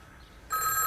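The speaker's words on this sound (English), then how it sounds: "Oh, it's my phone." A telephone bell rings abruptly after a quiet moment, a bright, loud, sustained ringing that fills the rest of the brief moment.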